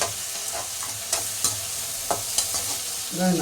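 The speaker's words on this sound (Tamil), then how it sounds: "நல்லா தக்காளி வெங்காயம் வதங்க" Tomatoes and onions sauté in a pan for a breakfast wheat rava kichadi, a soft sizzle broken by several sharp clicks of a spoon stirring against the pan, quiet and close.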